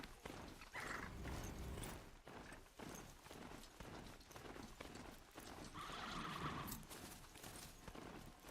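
Hooves clip-clop rapidly in a galloping rhythm while a horse whinnies loudly twice in the video game Horizon Zero Dawn, with a busy, game-like ambience underneath and no speech.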